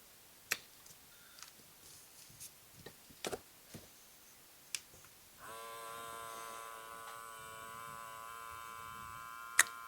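A vacuum pump starts after a few scattered clicks and knocks, then runs with a steady buzzing hum for the rest of the clip, moderately quiet.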